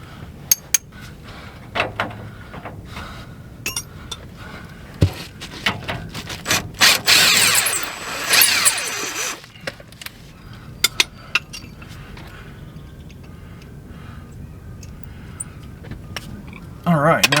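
Tools working a bolt out of the timing bar of an RV slide room mechanism, with scattered metallic clanks, taps and a stretch of grinding scraping, and a voice speaking at times.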